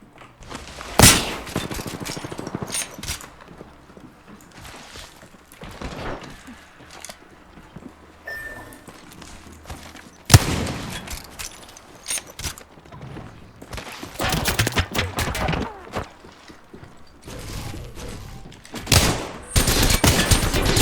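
Bursts of automatic gunfire and single shots crackle through a video game firefight, coming in irregular loud volleys separated by quieter stretches, with faint voices in the background.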